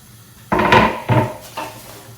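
Chopped white onion tipped into a pan of oil, three close thuds and scrapes of a utensil against the pan in quick succession, with a faint sizzle and no talk.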